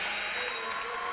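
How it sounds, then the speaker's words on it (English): Applause from a crowd and student section at a college men's basketball game, a dense steady clatter of clapping throughout as a senior player exits to a standing ovation. "Bauer Malone will get a standing O from this student section in this crowd as he exits."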